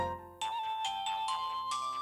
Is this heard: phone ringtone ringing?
yes